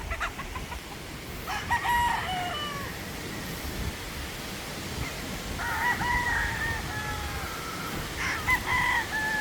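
Boston Black chickens outdoors cluck and crow, several drawn-out crows rising over a steady noisy background, with scattered clucks nearby.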